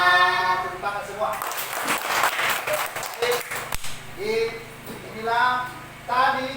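A classroom audience claps together in a brief burst of applause in the middle, with a voice speaking before and after it.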